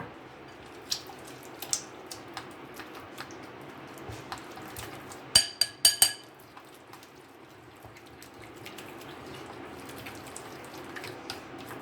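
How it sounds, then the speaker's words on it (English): Paneer coating batter thinned with water is stirred in a bowl, giving soft, wet, irregular taps and sloshes. A quick cluster of sharper clicks comes in the middle against a quiet background. "keep on moving it and stirring it well"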